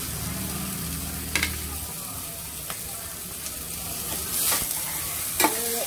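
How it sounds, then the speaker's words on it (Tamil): Carrots go into a pan for kothavarangai (cluster bean) soup, giving a steady sizzle with a few sharp clinks and scrapes of stirring, close and moderately loud, with no voice. "இப்போ கேரட் சேர்க்குறோம்"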